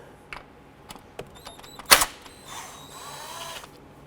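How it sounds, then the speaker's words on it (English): A 10mm bolt is loosened from the ignition coil of a 2012-2017 Toyota Camry: scattered light clicks, a sharp metallic clack, then a quick run of ratcheting, all close and fairly quiet. "Remove the 10mm bolt."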